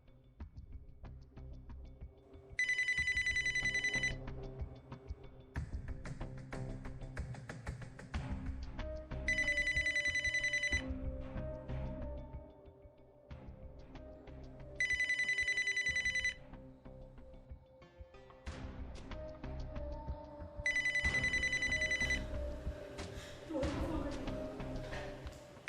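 A telephone rings in four evenly spaced bursts of electronic trilling, loud over a dramatic music bed, with a voice heard faintly between rings.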